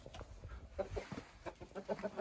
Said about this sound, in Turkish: Buralar bizim tavuk kümesi. Bizim yakışık horozumuz.